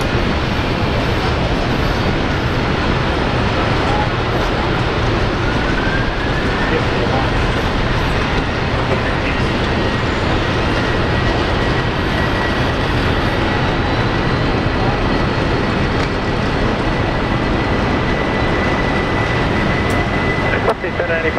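A Qantas airliner takes off from Brisbane bound for Auckland, its engines a loud, close, continuous roar of broadband noise that fills the whole twenty seconds.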